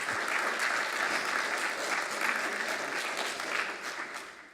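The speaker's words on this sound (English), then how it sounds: "Now that I've got some applause, I'm going to wind down." Steady applause from an audience at a talk, dense and even throughout, tapering slightly at the end with no voices on top.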